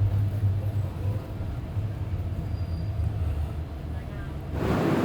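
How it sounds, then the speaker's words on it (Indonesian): The Mutiara Timur extra-schedule train pulls into Sidoarjo station at night with a steady low rumble and droning hum from inside the carriage, and a louder burst of noise comes near the end. "perjalanan kereta api Mutiara Timur fakultatif telah tiba di stasiun Sidoarjo"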